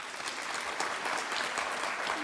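Steady applause from an audience at a Hall of Fame induction ceremony, a dense, even patter of many clapping hands sustained throughout.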